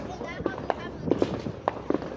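Outdoor fireworks pop in several sharp bursts spaced through a couple of seconds, some louder and nearer than others, with excited voices talking over them.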